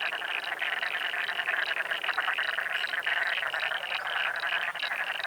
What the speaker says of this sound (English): So I'll choose frogs and toads.